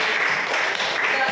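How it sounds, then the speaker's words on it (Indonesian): A group in a classroom or lecture setting claps, a steady, fairly loud patter of many hands that sounds like a dense hiss and continues for over a second. "tepuk tangan dulu"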